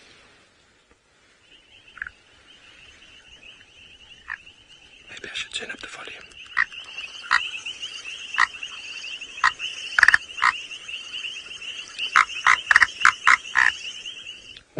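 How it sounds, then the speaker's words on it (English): A recorded call of a foam nest frog played back on a safari drive: sparse croaking clicks at first, then a dense run of sharp repeated croaks, with a brief spoken remark early on. "Nice frog sound, isn't it?"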